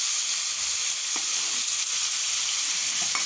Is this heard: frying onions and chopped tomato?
yes